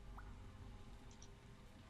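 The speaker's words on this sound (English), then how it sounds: "Water drips down the stones." Water drips down cold, wet stones at the bottom of a well in The Lion's Song, a few faint, sparse drops over a quiet, low ambient hum.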